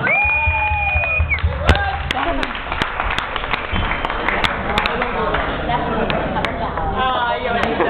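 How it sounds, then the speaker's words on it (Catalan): An audience at a Som Illencs show in Ciutadella applauds and cheers for Pep Álvarez, with crisp claps running throughout under loud overlapping crowd voices and shouting. "un aplaudiment per ell, ben fort, vinga!"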